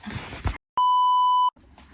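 A phone gives a single loud, steady electronic beep, a pure tone held for under a second. Brief bursts of other sound come before it and after it.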